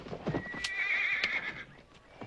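A horse whinnies briefly with a high, wavering neigh over a faint background of movement, moderately distant in an outdoor western setting.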